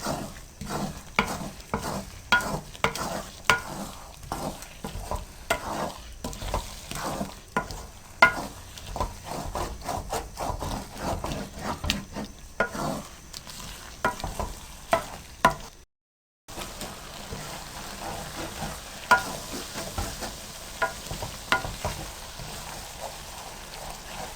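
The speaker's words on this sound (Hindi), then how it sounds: "अब आपने चम्मच मुसलसल चलाते रहना है, इसको छोड़ना नहीं है" A spoon scrapes and stirs through potatoes and eggs frying in a pan, tapping in a busy irregular rhythm over a constant close sizzle, with one brief dropout and no speech.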